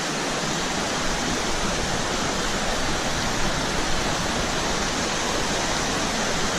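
Steady, full rushing roar of a waterfall and stream under a tree canopy in a lush green forest, loud and continuous with no talk.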